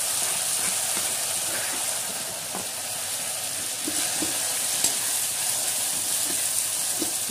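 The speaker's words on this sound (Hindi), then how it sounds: "तो ये पक गए हमारे प्याज लहसुन, अब हम डाल देंगे इसमें टमाटर।" Chopped tomatoes go into a pan of cooking onion and garlic for a potato sabzi, giving a steady close sizzle of frying with a few soft stirring scrapes, no talk over it.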